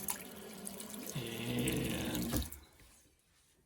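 Water runs steadily from a bathroom sink faucet into a slow-draining basin, loud and close for about two seconds. A falling gurgling tone comes through as the flow fills, then the water stops abruptly, leaving quiet, and a single word is spoken.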